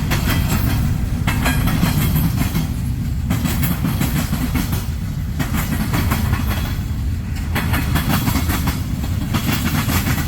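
A long manifest freight train rolls past at a railroad junction, a loud continuous rumble with rhythmic clickety-clack of wheels over rail joints, steady throughout with no voices.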